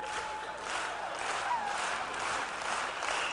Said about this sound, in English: We're clapping now?